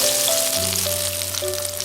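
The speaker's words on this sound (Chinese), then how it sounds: "我们在鱼片上放点蒜末，放点葱末，用热油给它泼一下" Hot oil is poured over minced garlic and chopped scallions on fish slices. It gives a loud, bright, continuous sizzle, with a steady tone underneath.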